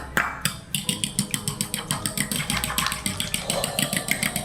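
Lawn care equipment running outdoors, a steady engine drone with a fast pulsing chug, fairly close and continuous without any talk.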